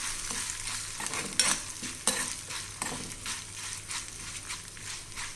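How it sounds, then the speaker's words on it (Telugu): Chana dal and urad dal fry in a pan, a steady close sizzle with occasional scraping stirs of a spoon against the pan. "వేగుతోందండి."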